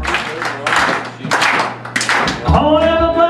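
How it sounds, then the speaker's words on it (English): Several rhythmic bursts of hand clapping in a steady beat with a thudding tap underneath, followed by a sustained sung tone. "Come on, everybody, clap your hands real."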